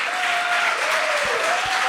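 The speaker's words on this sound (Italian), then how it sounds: "Applauso." Studio audience applause opens an Italian comedy talk-show episode, a loud, dense and steady burst of clapping close to the microphones, with a couple of low bumps underneath.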